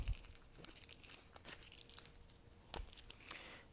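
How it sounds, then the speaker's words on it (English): Paper fret template being peeled off an electric ukulele fretboard, a close, soft tearing and crinkling with a few brief sharper rips spread over a few seconds. "Now that I've trimmed off the sides, I can peel off the fret template"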